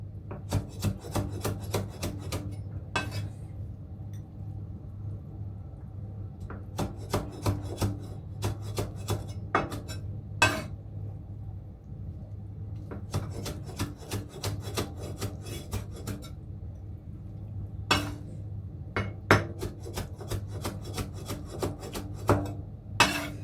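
Knife slicing kimchi on a cutting board, quick rhythmic bursts of sharp chopping taps separated by short pauses, close and crisp over a low steady hum.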